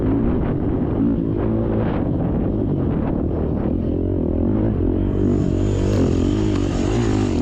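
A 430 four-stroke dirt bike runs on a fast open motocross race track, its loud engine drone mixed with heavy wind buffeting on the microphone throughout, with no pauses.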